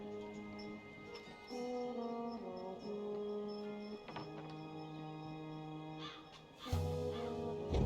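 A talking bird in the video game Dreamfall Chapters caws repeatedly over a layered musical ambience, the harsh calls scattered and mid-distance, with a louder burst near the end.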